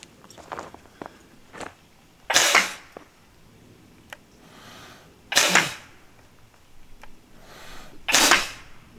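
A revolver blowgun cane fires and its drum is twisted, giving three sharp, breathy whooshing shots spaced a few seconds apart with small mechanical clicks and handling taps between, close and moderately loud.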